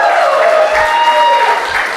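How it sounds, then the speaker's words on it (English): Audience at a stand-up comedy show applauds, a short burst of loud, continuous clapping from a packed room with a bit of crowd noise and cheering tones mixed in. "You can keep clapping"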